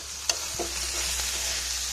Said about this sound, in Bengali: এই যে এইখানে আগে মুগ ডালটা ভেজে নিচ্ছি